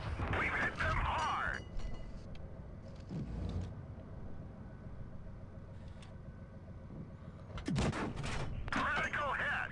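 Gunfire from an ARL V39 tier 6 French tank destroyer in WOT Blitz: a few heavy cannon shots booming near the start, middle and end, with engine rumble and battle noise between them.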